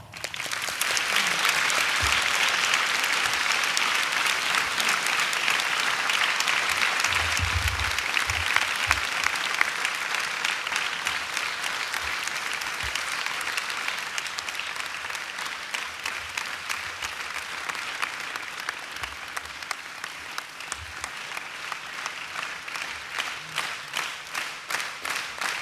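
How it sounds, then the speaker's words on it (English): A large audience claps for Swami at a devotional gathering: a long, dense wash of applause that stays strong for many seconds, then gradually thins into a rhythmic, more individual patter toward the end. "we give Swami a big clap."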